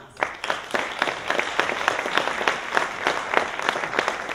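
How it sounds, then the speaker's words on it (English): Audience applause greeting actors as they come out on stage at a university colloquium play, steady dense clapping with regular sharp accents, sustained and fairly loud throughout. "So let's give them a big round of applause."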